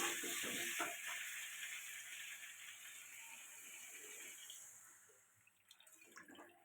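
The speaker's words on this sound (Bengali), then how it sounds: "এবার জল দিয়ে দেবো।" Water is poured into a pan of fish curry of boal fish and potatoes, a soft steady pouring splash with light sizzle that tapers off after several seconds, followed by faint clinks.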